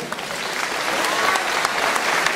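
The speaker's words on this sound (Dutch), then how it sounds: "Graag een applaus" Crowd applause at a K-1 kickboxing gala in Holland, a dense wash of clapping in a large hall that holds steady for a couple of seconds with no clear speech.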